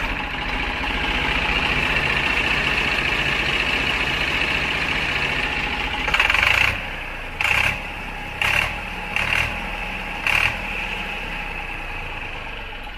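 A Sonalika DI 60 RX tractor engine idling nearby with a steady, even rumble. Several short louder bursts cut in over the second half.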